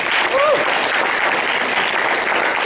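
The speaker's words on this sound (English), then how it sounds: "Please give them a round of applause." Sustained applause from an audience at a public debate, dense and steady throughout, with a brief voice-like tone rising over the clapping early on.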